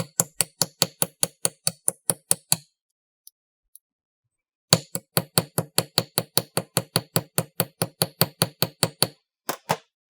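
A chasing hammer taps texture onto a fused ring in a steady, even rhythm of sharp metallic strikes. A short pause breaks the strikes, then another long run follows, close and clear with no talking.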